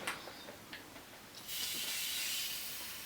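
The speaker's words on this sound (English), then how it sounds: "I'm still using the Hemp's hairspray." A can of Hemp hairspray lets out a short puff, then a long, steady, close hiss of spray that runs to the end of the clip. No one speaks.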